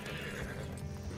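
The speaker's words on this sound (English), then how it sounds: "That's why they have the horses here." A horse whinnies in a video game, a brief neigh heard close against busy game background noise, with no talk.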